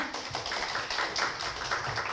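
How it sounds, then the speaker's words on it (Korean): Audience applause at a lecture-style book talk, with many hands clapping in a steady, soft patter that carries on evenly and sounds somewhat distant and quiet. "큰 박수 부탁드립니다"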